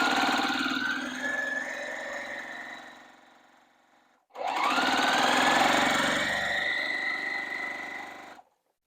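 A sewing machine stitches quilt blocks for a Flossie quilt-along, running in a steady mechanical whir that slows and stops around the midpoint, then starts again and runs to the end, close and loud with no talking.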